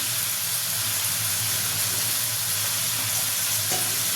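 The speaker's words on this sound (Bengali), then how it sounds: "দিয়ে এটাকে আমি কষতে থাকবো। যতক্ষণ না আদা রসুনের কাঁচা গন্ধটা যায় ততক্ষণ আমি নাড়িয়ে যাব" Ginger-garlic paste sautéing in hot oil while being stirred, for a Bengali potol and prawn dish: a steady, dense sizzle and hiss that holds evenly throughout, close and fairly loud, with no voices.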